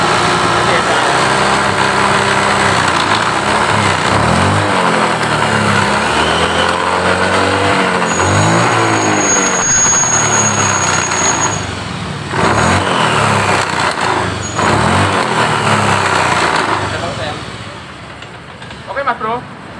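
A fuel-injected Honda Beat motorcycle engine runs and is revved, a steady close mechanical drone that rises and falls in several swells before dropping toward idle near the end, with someone talking over it.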